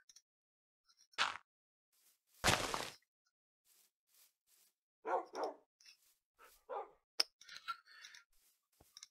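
A few faint, scattered dog barks and yips from Minecraft come through in short, separate bursts, mixed with quieter game noises and long quiet gaps.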